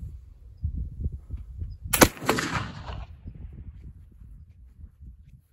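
A single loud black powder gunshot loaded with 4F GOEX powder cracks once outdoors, a sharp blast with a short rumbling tail, set against low wind and handling noise.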